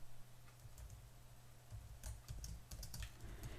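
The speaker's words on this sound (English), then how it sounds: "Just type into the boxes" Fingers type on a computer keyboard to fill in boxes in event design software. A quick burst of soft, close key clicks grows denser toward the end, with no talking.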